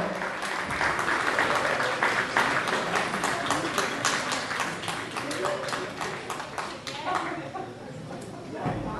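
A crowd applauds a Miss Ciclismo contestant on stage, sharp dense clapping that swells and then thins toward the end, with voices over it.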